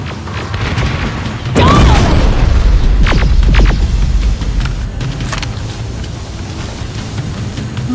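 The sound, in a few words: grenade explosions in Terminator Resistance video game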